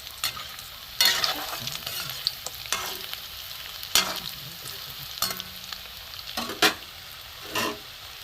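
Katla fish balls fry in oil in a pan over lowered heat, a continuous crackling sizzle punctuated by repeated bright scraping and clattering bursts as a utensil turns them.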